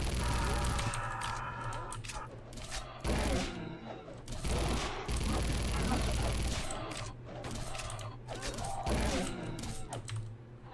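Rapid SMG gunfire in the horror shooter Unloved during a clown attack, sharp bursts firing almost continuously and loudly with brief pauses, mixed with game noise.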